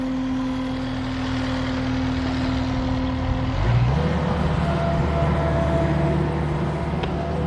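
Street construction rumbles nearby as a heavy truck idles and its engine note drops and shifts midway, steady and fairly close, with a continuous low drone and background traffic.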